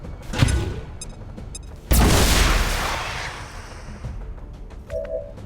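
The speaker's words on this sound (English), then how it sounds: "Just gonna grenade you." A grenade blast in XCOM Long War, mid-mission at a network tower: a few small pops, then one loud broadband boom near the two-second mark that rolls off over several seconds, with faint game tones after.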